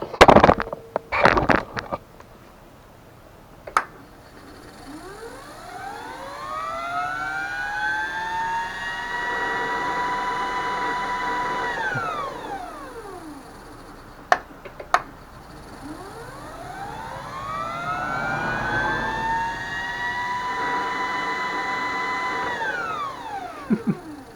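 A high mechanical whine from a vehicle's transaxle rises and then falls away twice, jet-like, over a steady engine drone, with a few sharp clicks and knocks at the start.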